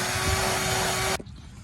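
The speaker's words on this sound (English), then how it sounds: "So I do have a shop vac." A shop vac runs loud and steady with a high whine and broadband roar while vacuuming out a C6 Corvette interior, then cuts off abruptly, leaving quiet rustling.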